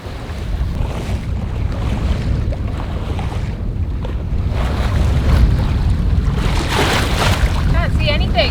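A sailboat under way at sea at sunset, heading west past the outer islands off Padang, with loud, constant wind buffeting and waves rushing against the hull throughout.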